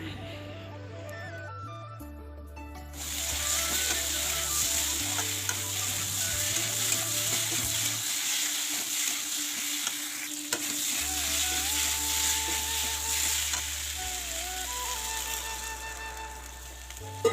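Fish with pumpkin and potato fries and sizzles in a pan, a steady close sizzle with stirring scrapes running the whole time, and a low background hum that comes and goes.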